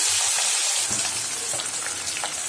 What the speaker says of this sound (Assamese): এনেদৰে মই 5 মিনিটমান সময় ভাজি থাকিম